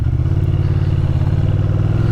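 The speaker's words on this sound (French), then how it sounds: "c'est une Ducati Monster 620 IE" A 2003 Ducati Monster 620 ie motorcycle engine runs steadily and loud, a close, deep throbbing idle with a rapid, even pulse and no voices over it.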